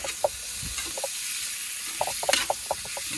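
Venison pieces cooking in butter in a pot are stirred, giving a steady close sizzle with scattered scraping and clinking stirs, loudest in a cluster near the end, with no talking.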